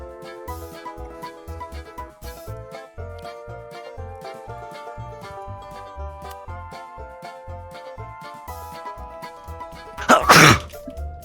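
One sharp, loud sneeze from a person bursts out near the end, over a bright electronic game-music loop playing steadily throughout.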